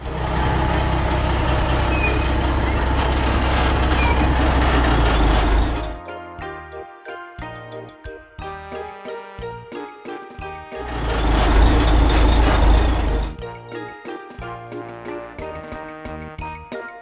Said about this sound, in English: Wildfire truck.